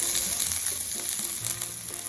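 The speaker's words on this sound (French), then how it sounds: "Je jette mon échalote. Je jette mes pois gourmands." Snow peas and chopped shallot sizzle in butter in a hot pan, a dense steady crackling fry heard up close with no voices.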